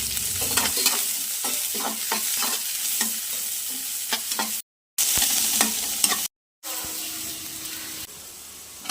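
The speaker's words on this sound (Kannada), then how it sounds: "ಎಣ್ಣೆ, ಸಾಸಿವೆ, ಕರಿಬೇವು, ಹಸಿಮೆಣಸು, ನೀರುಳ್ಳಿ ಚೆನ್ನಾಗಿ ಫ್ರೈ ಮಾಡುವ." Mustard seeds, curry leaves, green chili and onion frying in oil in a home kitchen, a continuous crackling sizzle broken by repeated utensil scrapes and two brief dropouts, with no talking.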